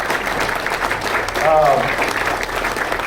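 Audience applause for Sean Rohr at a veterans' benefit evening, a steady wash of clapping throughout with a brief whistle or cheer in the middle.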